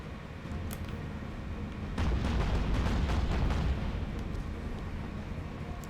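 Warship guns firing broadside in Battlestations Pacific during the first battle of Guadalcanal, a cluster of heavy booms rolling together over a low rumble, loud then fading, with a few sharp reports before and after and no voices.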